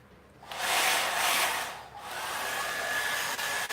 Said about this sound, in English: And now plug in the hairdryer.